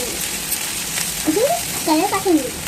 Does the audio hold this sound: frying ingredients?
yes